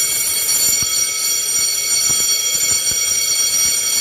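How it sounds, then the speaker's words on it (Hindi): A loud, continuous high-pitched alarm rings without pause, a steady electronic tone with faint low thumps and rumble beneath it. "हमें अचानक से ये फायर अलार्म की आवाज़ सुनाई दी"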